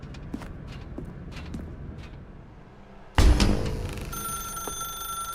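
A telephone in The Stanley Parable starts ringing suddenly with a sharp, loud bell tone after a few soft footsteps, the ringing continuing steadily to the end.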